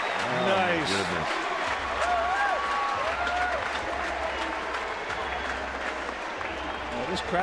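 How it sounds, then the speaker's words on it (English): Baseball stadium crowd at a Giants vs. Dodgers game cheering and applauding steadily, a dense wash of claps and voices holding at a constant level throughout, with a commentator talking over it near the start. "this crowd is just anxious to cheer about something good"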